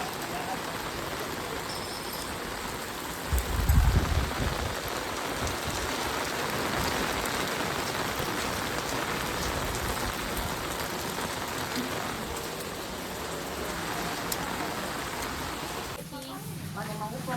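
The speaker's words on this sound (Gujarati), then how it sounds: "કેટલો વરસાદ છે જો" Heavy rain at Mount Abu pours down in a steady, dense roar, with voices talking faintly underneath and a brief thump early on.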